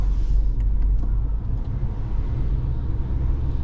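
A car accelerating in sports mode gives a deep, steady engine rumble heard from inside the cabin, strong and low throughout with no talking.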